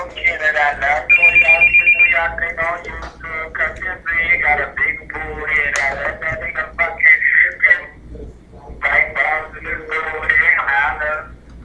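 A telephone ringtone sounds repeatedly on a call-in radio show, its bright warbling tones running on and off through most of the stretch while hosts talk over and between the rings.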